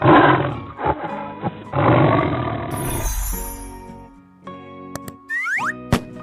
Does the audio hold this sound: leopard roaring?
yes